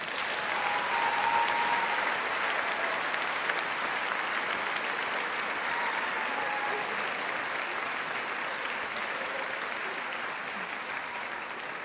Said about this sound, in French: Allez, on les applaudit encore.